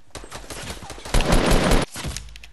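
A quick volley of Fortnite video game gunfire rattles loudly and closely, with a dense burst in the middle of the short stretch and no talk over it.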